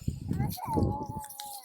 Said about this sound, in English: You can hear my son babbling in the background.